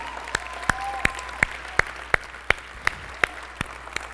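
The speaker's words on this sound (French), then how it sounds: "je veux vous applaudir maintenant" Sharp, evenly spaced claps ring out about three times a second at a moderate distance, a steady rhythmic beat over a quiet room at a church-style gathering.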